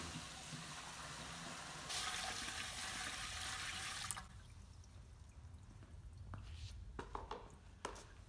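Water is poured into the tank of a Dry Icer 1700 W low-fog machine: a steady, close rushing pour for about four seconds, then quieter trickles and scattered drips.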